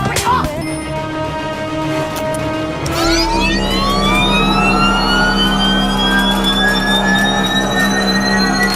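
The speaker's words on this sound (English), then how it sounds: "It's the sound that's being caused by Batman's gadget." A sonic attack from Batman's gadget in a video game: a loud electronic wail with rising, sweeping tones, then a sustained low drone from about three seconds on, alone with no talking.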